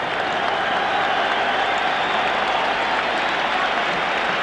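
A large football stadium crowd applauds a player leaving the pitch as a substitute, a dense sustained wash of clapping that holds steady and loud throughout.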